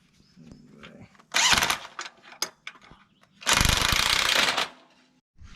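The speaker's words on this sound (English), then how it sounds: "So I'm just cutting the heavy weld down here, the spot weld." A power tool grinds through a heavy spot weld on a Chevy crew cab, with two loud harsh bursts, one short and one longer, separated by brief clanks and quieter gaps.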